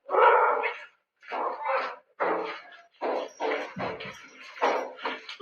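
A dog in a creepy haunted-house scene barks in repeated bursts at close range. Each bark is loud and sharp, separated by brief pauses, with no voices.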